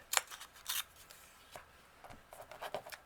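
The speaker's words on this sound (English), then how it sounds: "Now I like I like this rose, so I'm just going to rip that" Paper rose embellishment torn by hand during a decorative bird craft, a few quick dry rips and crinkles in short bursts, close and moderately quiet, with no talking.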